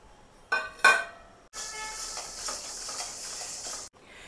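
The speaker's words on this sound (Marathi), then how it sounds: "हे हरभरा डाळ आहे 50 ग्रॅम, ती आता आपण भाजून घेतो." Chana dal dry roasting in a pan, opening with two clinks of lentils dropping into the metal, then a steady, close rattling and scraping hiss as the dal is stirred, which stops abruptly, with no voices.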